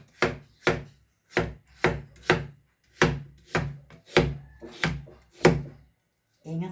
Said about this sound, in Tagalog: Sunod na po natin hiwain ang ating sayote.